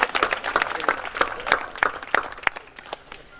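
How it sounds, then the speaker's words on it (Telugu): An audience claps in a quick, irregular patter of hand claps, fairly close and moderately loud, lasting a few seconds without speech. "ఎత్తిన వాళ్ళందరి కోసం చప్పట్లు కొట్టి అభినందించండి"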